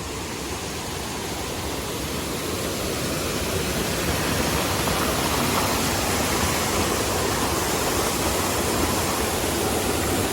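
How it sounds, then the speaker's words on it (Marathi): A waterfall fed by a mountain stream roars in a dense, unbroken rush of water that grows slightly louder over time, with no voices. "इकडनं बघलात ना धबधबा कसं होता बघा"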